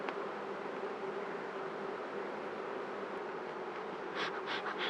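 Honeybees hum in a steady, dense buzz throughout a spring beehive inspection, with a few nearby bees flaring louder toward the end.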